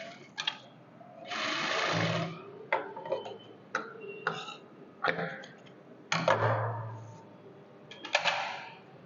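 A sewing machine stitches a salwar in several bursts separated by short pauses, each run loud and close, with a faint low hum between them.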